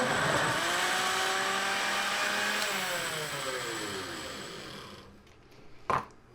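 A blender whirs loudly, blending cooked vegetables for a vegan butternut squash soup, its motor pitch shifting as the load changes, then winding down and stopping, followed by a brief clunk.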